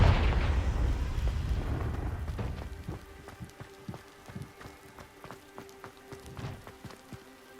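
Confringo fire spell explosion in Hogwarts Legacy: a burst of fiery roar that fades over a couple of seconds, followed by scattered light crackles and small impacts.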